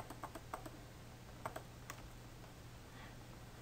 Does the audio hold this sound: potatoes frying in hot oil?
no